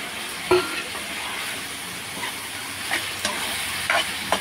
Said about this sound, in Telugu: ఇప్పుడు మనం టమాటోస్ వేసుకుందాం